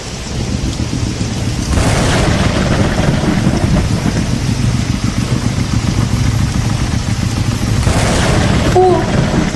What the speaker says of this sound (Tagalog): Mas lalo pang lumalakas ang ulan